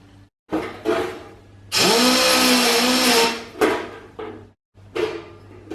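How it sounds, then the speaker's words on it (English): Belt sander run over a metal repair section for a TIG butt weld, a loud steady broadband grinding burst of about a second and a half with a falling whine at the end, between shorter bursts of tool and workshop noise. "So I'm just going to put the belt sander over that"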